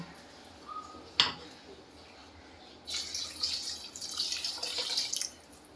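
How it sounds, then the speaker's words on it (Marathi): A single clink, then water pours into a pot of moong dal khichdi for about two and a half seconds, a close, steady splashing rush that stops abruptly. "त्यामध्ये पाणी टाकायचं."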